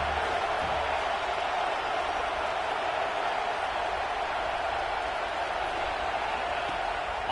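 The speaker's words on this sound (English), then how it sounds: "how nice is it to have the home crowd going absolutely bananas" A home crowd roars at a Penn State football game against Washington, producing a steady, dense wall of cheering that holds at an even, loud level throughout without any break.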